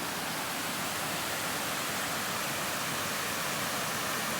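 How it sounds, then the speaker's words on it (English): A waterfall on a Tennessee creek roars in a steady, even rush of falling water that fills the whole scene, close and constant with no voices. "second waterfall, just down on the creek"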